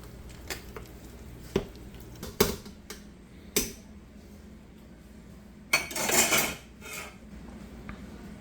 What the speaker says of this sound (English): I'm going to give this pectin a stir